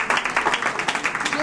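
Audience clapping at a wearable art fashion show in an art gallery, a steady patter of many hands at moderate distance with murmured voices underneath.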